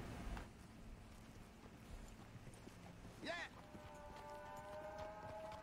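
Horse hooves clip-clopping under a rider in Red Dead Redemption 2, a soft rhythmic trot beneath frequent talking, with a brief whooshing swell partway through and a steady tonal hum near the end.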